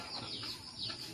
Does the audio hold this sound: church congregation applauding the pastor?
no